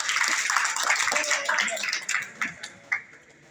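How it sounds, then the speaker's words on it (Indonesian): High school students in a Ramadan pesantren kilat session at SMAN 42 Jakarta clap their hands in a brief burst that tapers into a few scattered claps, close by, with talking mixed in. "Mantap, tepuk tangan dong."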